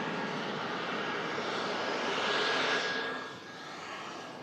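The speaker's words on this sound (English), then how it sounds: "Lauda next to land from Vienna, followed by its company Ryanair." A Lauda airliner arriving from Vienna roars in to land. Its loud, broad jet-engine rush swells to a peak as the aircraft passes, then eases off slightly, with no voices over it.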